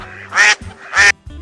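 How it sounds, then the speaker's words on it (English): Two loud, close duck quacks, each a short raspy burst, separated by a brief pause over a quiet musical background. "Duck."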